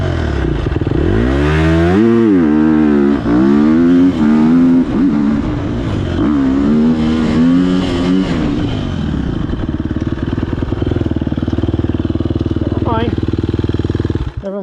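A dirt bike engine revs hard and close, its pitch climbing and falling in repeated sweeps before settling into a steady loud drone, with a brief throttle blip near the end.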